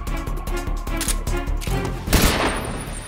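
Sustained automatic gunfire from the video game Metal Gear Solid 3, loud and close, rattling in rapid continuous bursts with a heavier crash near the end.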